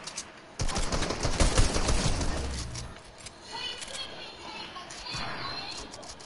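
Bursts of pistol fire in a squad shooter game crackle in a dense rapid cluster early on, then fade into quieter game noise while a player talks over it.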